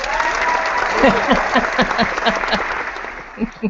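A few people clap in uneven, scattered strokes during a casual live chat show, while voices talk over the claps.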